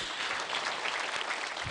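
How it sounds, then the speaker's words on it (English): At the Kenya Institute of Management graduation ceremony, a large audience applauds with a dense, even wash of clapping that holds steady throughout, with no voices rising above it. "Can we give them a round of applause?"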